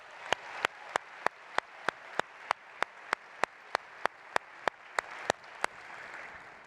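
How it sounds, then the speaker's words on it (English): An audience at the 43North Finals 2025 claps in a steady, evenly spaced rhythm, sharp distinct claps ringing out one after another with no voices over them. "Let's give them a round of applause for a great job."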